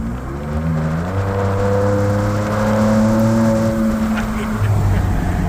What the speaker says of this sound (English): The Bronco that has the attitude with the exhaust.